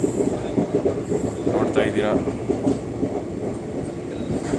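A train rolls steadily along the rails with a continuous rumble and faint rattling, and a person talks over the noise.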